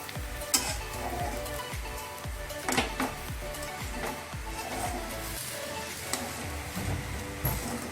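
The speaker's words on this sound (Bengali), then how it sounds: "এবার কিশমিশ আর গরম মশলাটার সাথে আলুটাকে ভালো করে মিশিয়ে নিতে হবে।" Potato filling mixed with raisins and garam masala is stirred in a hot pan, a spoon scraping in steady repeated strokes over a constant close sizzle, with no talking.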